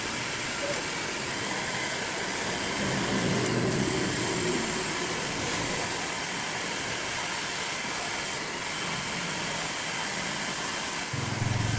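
A Kawasaki Ninja 250R motorcycle with a leaking radiator hose idles steadily, its engine giving a continuous, even drone at close range with no pauses throughout.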